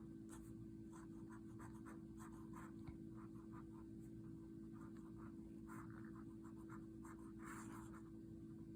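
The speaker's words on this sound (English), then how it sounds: "So let me write this out." Soft, steady scratching of a pen moving across paper, with short strokes in an irregular rhythm over a constant low hum.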